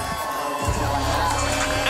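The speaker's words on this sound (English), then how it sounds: "And the crowd, you know, welcome them" A crowd at a women's doubles teqball tour final in Los Angeles cheers and whoops continuously at fairly close range, a loud, dense wash of voices welcoming the players.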